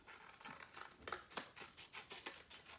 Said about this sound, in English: And you take your scissors